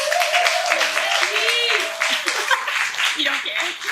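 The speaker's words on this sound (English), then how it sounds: "All right, everybody, give it up for Becca." A crowd at a Louisville nerd talk night claps continuously, a dense steady patter of applause throughout, with a voice calling out over it.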